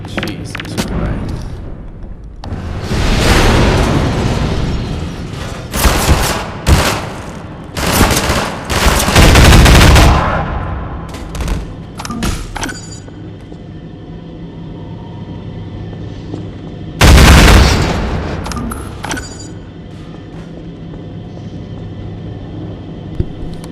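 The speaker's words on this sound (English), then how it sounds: "that grenade literally just exploded the catwalk" A grenade blows apart a catwalk in Half-Life 2, heard as a series of loud, booming explosive bursts mixed with gunfire-like crackle, then a single late blast over a low, steady game rumble.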